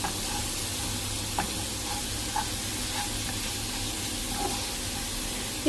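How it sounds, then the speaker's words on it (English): Lentils fry in a pan with a little oil under a continuous close sizzle, with occasional soft stirring scrapes and ticks, and no voices. "So keep stirring it."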